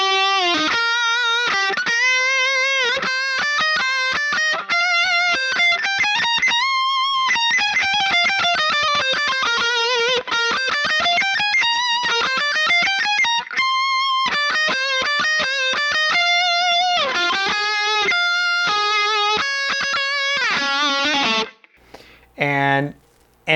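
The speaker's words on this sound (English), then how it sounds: "I have this wah-wah pedal set to a certain point in the sweep" Distorted electric guitar through a wah-wah pedal parked at a fixed point in its sweep, playing a long run of rapid picked notes that climb and fall, loud and steady, ending in a brief quiet gap.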